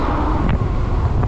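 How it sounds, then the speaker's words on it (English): Strong wind buffets the microphone during a ride on an 8000W Tommebike electric bike along a highway, a loud, continuous low roar with steady gusting and no pauses. "Look how windy it is,"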